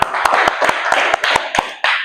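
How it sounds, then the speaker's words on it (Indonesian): Applause in a classroom, a short burst of hand claps with sharp, uneven strikes over a mixed background, close and brief. "Beri tepuk tangan"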